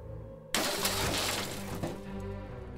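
A mobile phone dropped onto the ground and shattering: a sudden loud crash of breaking glass bursts in after a quiet moment, followed by scattering, tinkling debris.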